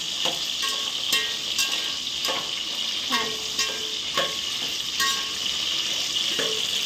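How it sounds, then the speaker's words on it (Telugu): Food frying in a pan: a loud, continuous, close sizzle with a series of sharp metallic scrapes and clinks as it is stirred at a steady pace. "ఎంతసేపు ఫ్రై అవుతాయమ్మమ్మ ఇవి? మరి కొంచెం రెడ్గా రావాలి కదా"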